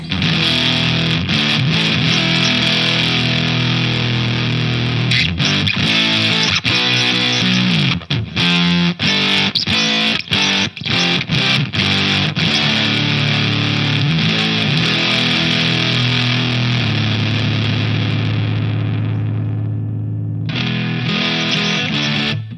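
An electric guitar plays through a Voodoo Octave Foxx fuzz pedal set near its lowest fuzz, heavy distortion, thick and buzzing, with sustained chords and choppy strums, loud and continuous before a brief pause.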